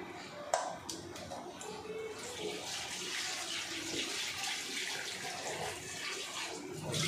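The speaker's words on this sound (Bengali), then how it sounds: "এই যে এখন মাছগুলো ধুয়ে নেব" Water running and splashing steadily as rohu fish are washed in a basin, a continuous bright rush with a few sharp clatters near the start.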